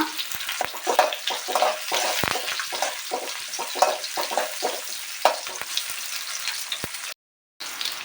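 Onions sautéing in a pan for a vegetable curry, a steady crackling sizzle with repeated scraping stirs, close and moderately loud, alone with no talk.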